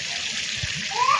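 Boiled gab leaves drop into a cooking pot with a soft wet splash and slosh, close up and brief, over a steady background hiss.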